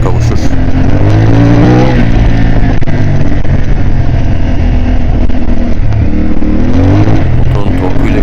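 A CF Moto 450 MT motorcycle's engine and exhaust rev loud and steady during a night off-road ride through a forest, a continuous throaty drone with rising and falling pitch, and a voice talks over it.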